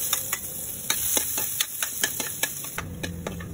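Garlic fries in a little oil in a pan, a soft steady sizzle broken by sharp, close clicks and taps of a utensil against the pan at an irregular rhythm.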